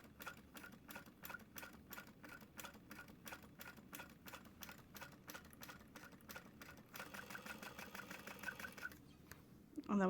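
A sewing machine stitches vinyl for a tote bag, running steadily close by with a rapid, even needle rhythm that carries on alone throughout.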